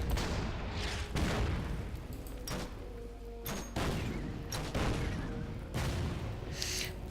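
Artillery bombardment in the WW2 strategy game Order of Battle, a series of deep booming blasts arriving every second or so, some overlapping, with rumbling decays between impacts, fairly quiet overall.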